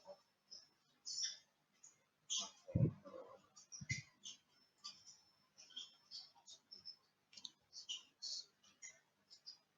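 Quiet computer mouse clicks during a web system demo, several sharp isolated taps scattered among faint low talking and other soft desk noises.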